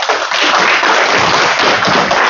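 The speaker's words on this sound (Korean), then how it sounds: "자, 큰 박수 부탁드리겠습니다" A lecture audience breaks into continuous, dense applause that fills the room at a steady level from start to finish, with no voices over it.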